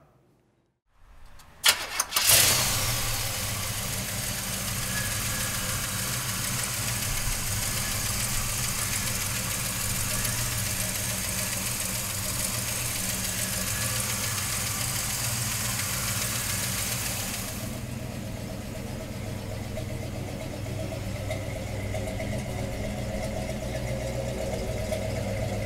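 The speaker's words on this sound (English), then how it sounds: "let's fire this 454 up" A 1970 Chevrolet Chevelle with a 454 V8 cranks briefly, catches and roars to life, then settles into a loud, steady, rumbling idle that carries on alone for over twenty seconds.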